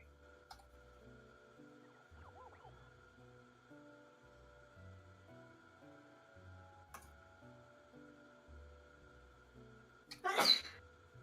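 A single sharp sneeze from someone in the background near the end, loud against a quiet room with faint ticking and low hum.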